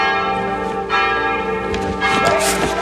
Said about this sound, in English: the sound of the bell signaling Daryl's return